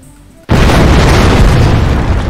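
A bomb explodes in the video game Keep Talking and Nobody Explodes, a sudden, very loud boom that cuts in after a quiet moment and roars on with a dense, rumbling tail.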